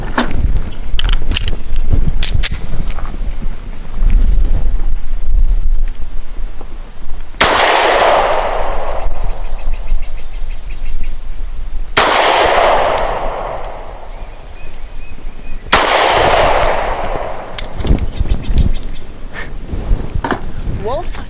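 Three loud, sharp shots from a Springfield XDe 9mm pistol firing Blazer aluminum 115 grain ammunition ring out a few seconds apart at an outdoor range, with talk between them.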